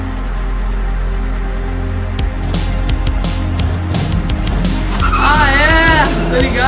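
Car engine roaring under low rumble while tires squeal and skid, with sharp bursts and a rising whine near the end; someone talks over parts of it.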